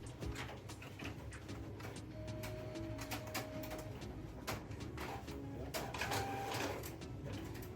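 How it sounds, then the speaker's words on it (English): An Epson L8050 inkjet printer powers on and runs with repeated mechanical clicks, whirs and brief motor tones over a continuous hum, close and moderately loud, with no talking. "Turn the printer on after tightening the screw and see if the issue is fixed."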